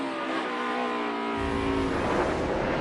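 A NASCAR Cup Series race car roars loudly and close at high engine speed on track at the Save Mart 350, a steady sustained howl with the pitch dropping and then rising again.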